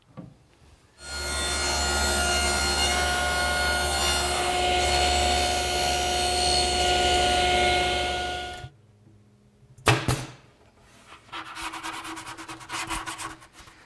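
Router fitted with a 3/4 inch bit cutting wood molding: a loud, steady high-pitched whine with a gritty cutting rasp that holds for about eight seconds, then stops abruptly, followed by a few sharp knocks and fainter handling noises.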